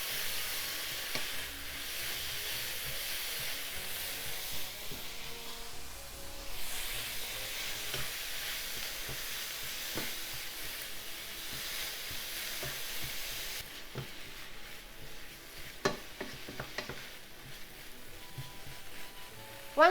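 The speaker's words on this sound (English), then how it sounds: "Keep cooking until the vegetables are wilted." Vegetables stir-fry in a hot pan for somen noodles, giving a continuous sizzle with occasional scraping and tapping of a utensil against the pan, close and steady throughout.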